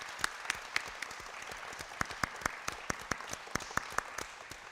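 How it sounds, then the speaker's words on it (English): Audience at a city council candidate forum applauding, a modest room of scattered hand claps with distinct individual claps standing out over a soft, steady patter. "now's the time the audience should applaud all their work"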